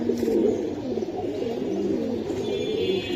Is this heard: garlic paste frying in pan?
no